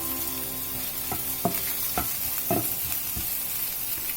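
Onions with turmeric and coriander powder sizzle steadily in a pan for a soybean and green peas kheema, broken by several distinct scraping stirs of a spoon at an even pace, close and moderately quiet, with no voices.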